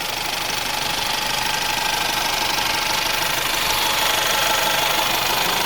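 A 2020 Lincoln Corsair's 2.0-liter EcoBoost engine idles under an open hood: a steady, unbroken mechanical hum with a faint ticking texture, close and constant throughout, with no talking.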